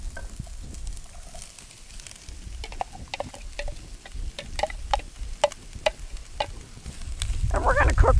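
Potatoes tumble into a Dutch oven for campfire hash, giving a soft sizzle with a series of light ticking pattering hits, then a louder rustling clatter near the end.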